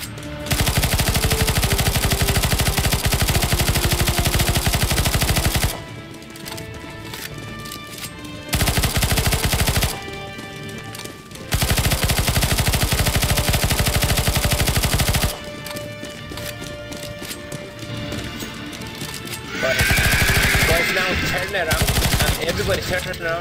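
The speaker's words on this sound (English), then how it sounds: "Keep shooting the Nosgors." Relentless automatic gunfire in CS:GO Zombie Escape, loud and dense, comes in long unbroken bursts separated by short lulls that are filled with other game sounds.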